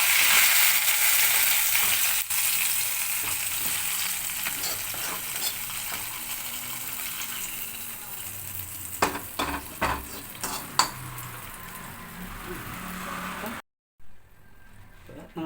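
Hot oil tempering is poured into a pan of mackerel curry, giving a loud sizzle and stirring at first that fades, followed by a few sharp clinks of utensils before it goes quiet.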